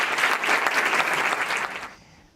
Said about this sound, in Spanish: les pido un fuerte aplauso para el padre